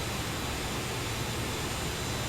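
Engines of the PT-15 torpedo boat running at full ahead in War Thunder naval combat: a loud, continuous roaring drone with a broad, unbroken rumble and no pauses or voices.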